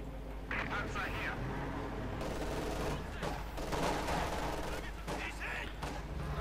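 Machine-gun bursts from an MG42 in the World War II strategy game Company of Heroes 2, rattling amid dense battle noise of other gunfire and explosions, with a commentator talking over it throughout.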